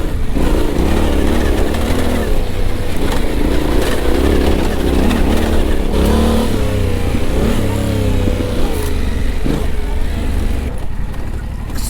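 A Yamaha Tenere 700 motorcycle engine revs and pulls while riding on road and off-road, a loud continuous engine roar rising and falling with wind rush throughout.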